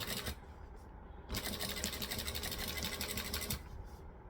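A sewing machine stitches and back-stitches along fabric tubing, with a steady, close mechanical whir in two bursts separated by a short pause.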